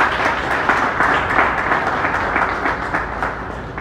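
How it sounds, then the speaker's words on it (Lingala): An audience at a community gathering applauds, and dense clapping from many hands keeps up evenly throughout at a loud level. "Est-ce qu'on peut applaudir?"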